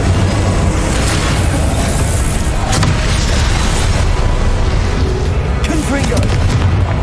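Fiery spells blast repeatedly during combat in the video game Hogwarts Legacy, a loud, dense barrage of booming bursts and crackling impacts that runs continuously. Shouted voices sound among the blasts.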